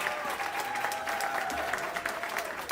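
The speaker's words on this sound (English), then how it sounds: "Let's give another round of applause to both our valedictorians, Ashley Montes-Dieca and Jonathan Garibay." A large crowd at a Southern California commencement ceremony applauds graduation valedictorians, sustained dense clapping throughout with a faint whistle or tone drifting beneath it.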